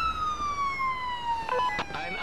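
A wailing ambulance siren in a police patrol video game, steady and fairly loud with a slowly falling tone, mixed with faint traffic and a brief voice near the end.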